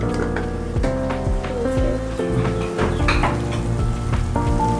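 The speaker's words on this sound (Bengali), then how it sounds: "তাহলে যে ঠিক ডাল রান্না করতেছে, এখন লাড়া দিব আমি" Dal cooks in a pot as it is stirred, giving a steady sizzle and bubbling with occasional scraping, mixed in with tonal background music.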